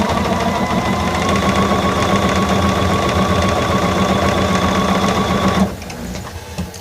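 A sewing machine stitching a fat quarter quilt block runs in a loud, steady mechanical whir for several seconds, then stops abruptly, leaving quieter handling sounds.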